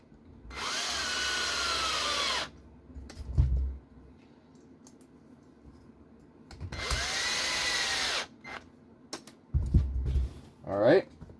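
A power drill drives long screws into an RC drag car chassis in two loud, steady bursts of a couple of seconds each, separated by quiet handling noises and a few short clicks.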